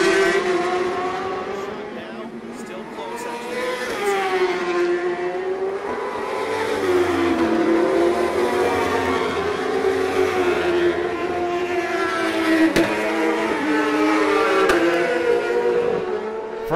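Superbike racing motorcycles at the St-Eustache round of the Mopar Pro Superbike series roar past on track, engines rising and falling as they pass one after another, loud and continuous.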